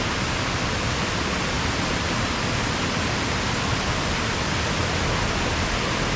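A waterfall beside a campsite gives a steady, dense rushing roar that holds unchanged throughout, close and loud, with no voices.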